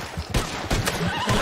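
Horse neighing in Red Dead Online, a short whinny mixed with hoof clops and sharp bursts that may be gunfire, loud and close with no talking.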